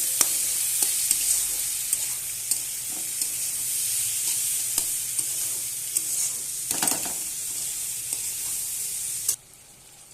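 Fish head and ingredients sizzling in hot oil while being stirred, a continuous bright frying hiss with scattered scraping taps of the spoon, ending abruptly as the sizzle drops away.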